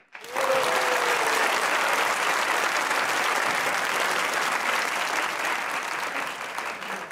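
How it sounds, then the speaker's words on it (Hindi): Dense studio audience applause at a Pakistani political talk show, loud and sustained from start to finish with no talk over it. "तो बजाइए तालियां"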